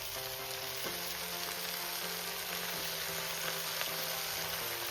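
Pumpkin greens frying in a hot pan, a steady close sizzle running throughout with a faint low hum underneath and no talking.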